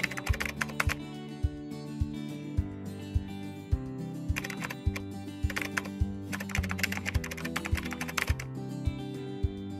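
Typing on a computer keyboard, a close, steady patter of individual key clicks with occasional faster flurries, continuing for about ten seconds with no talk.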